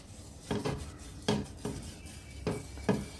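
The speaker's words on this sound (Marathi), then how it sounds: "आपण ब्रशने तेल लावून घेऊया" A brush spreads oil across a hot griddle in short strokes, about six scraping passes in an uneven rhythm, close and fairly quiet.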